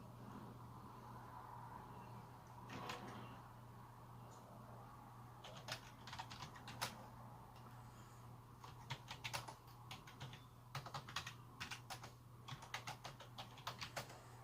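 Computer keyboard typing in a quiet room, irregular bursts of clicky keystrokes that grow denser toward the end, over a steady low electrical hum.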